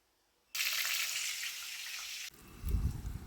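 Black cumin seeds hit hot oil with a sudden loud hiss, a dense sizzle that holds for about two seconds before dropping to a softer, lower bubbling crackle.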